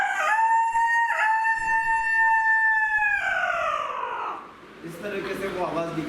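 A man imitates a rooster crowing in a long, loud, rising and sustained call, followed by softer vocal sounds near the end.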